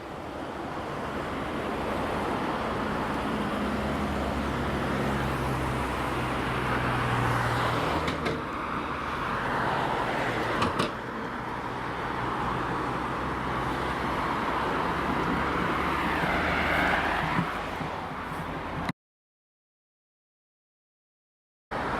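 Queued traffic on Madingley Road in Cambridge gives a steady roadside rumble and hiss of engines and tyres, with a few brief passing swells, before cutting to silence near the end.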